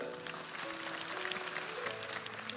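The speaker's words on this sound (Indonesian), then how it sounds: "Kasih tepuk tangan untuk mereka juga." Sustained applause from a church congregation, steady and moderately loud throughout, with faint background tones underneath.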